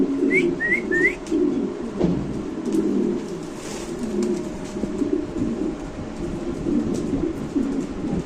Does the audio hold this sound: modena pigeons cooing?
yes